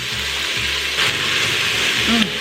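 Steady sizzling of onions frying in a pan, close up, with soft scraping and stirring clatter throughout.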